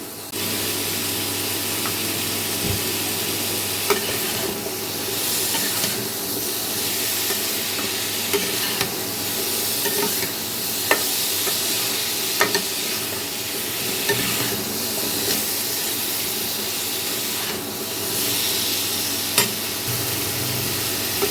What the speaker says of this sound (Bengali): একটু কষিয়ে নেব যাতে মশলার কাঁচা গন্ধটা চলে যায়